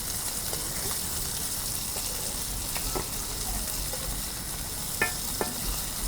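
Pomfret fish frying in a pan, a steady broadband sizzle throughout with a few soft clicks and scrapes of turning near the end, no talk.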